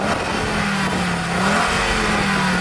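An Audi S2 Coupe quattro car engine revs loudly and steadily close by, its droning pitch rising and falling slightly with no talking over it.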